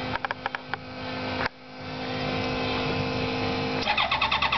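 An airboat's large engine cranks and sputters with starting trouble, firing briefly in uneven bursts before settling into a rough, loud running drone.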